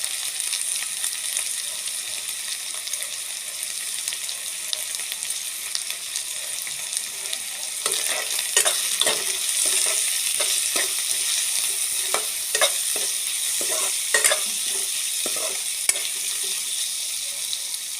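Ginger garlic paste fries with onion in a hot pan while being stirred, a continuous soft sizzle joined midway by repeated scraping stir strokes close by, with no voices.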